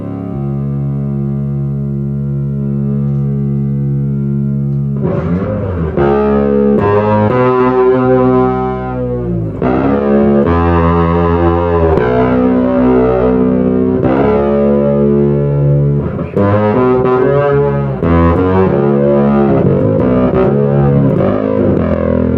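A fretless bass through Chowny effects pedals plays a slow, sustained line, distorted with heavy reverb and sliding pitches, loud and close, with no talking.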